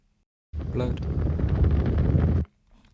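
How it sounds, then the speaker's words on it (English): Strong wind gusts across a microphone on a UK beach during a thunderstorm, a loud, dense roaring rush that starts abruptly, holds for about two seconds and cuts off, with quiet surroundings before and after. "As you can hear, very windy."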